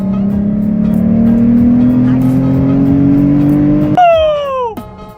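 A Volkswagen Jetta VR6 engine revs loud and close, its pitch climbing steadily for a few seconds before abruptly dropping away in a falling whine as the revs die down.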